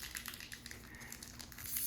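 A foil Pokémon card booster pack is torn open by hand, producing a steady, close crinkling and crackling of thin foil that lasts throughout and grows slightly louder at the end.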